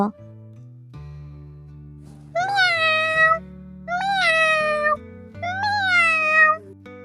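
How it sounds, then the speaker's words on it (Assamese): Three drawn-out cat meows, evenly spaced and fairly close, over a low steady hum of background noise. "কিজানিবা মেকুৰীটোৱে ওচৰতে আছে"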